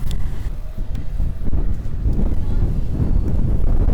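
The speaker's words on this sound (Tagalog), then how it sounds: "Lakas talaga ng hangin." Strong wind buffets the microphone at Ligas, Bacoor, with a constant low rumbling roar, gusting unevenly throughout.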